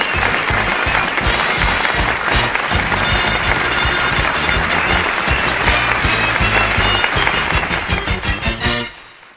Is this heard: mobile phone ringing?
no